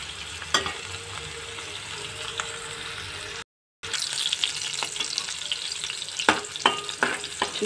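Bitter gourd slices frying in oil in a pan, a steady close sizzle with occasional stirring scrapes and clinks, briefly cut off midway before the sizzle resumes.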